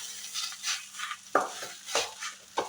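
Mashed boiled potatoes are stirred into egg in a bowl for egg cutlets, a spoon scraping and thumping against the bowl in a few uneven strokes, close up with nothing else heard.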